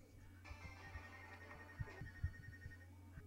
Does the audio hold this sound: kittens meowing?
no